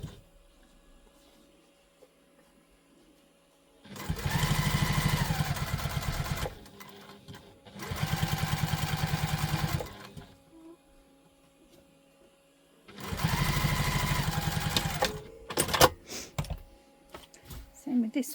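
Sewing machine top stitching a Julep tote bag in three long bursts of fast, even needle hammering, with quiet pauses between them and some handling noise near the end.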